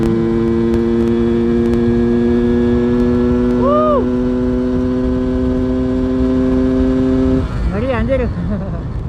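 A Yamaha F1ZR two-stroke motorcycle engine with a standard head runs steadily at a constant droning pitch, then briefly rises and falls in revs around the middle before wavering unevenly toward the end, loud and close throughout.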